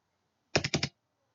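Two quick keystrokes on a computer keyboard's Enter key, each a sharp double click of press and release, close and clear against a quiet room.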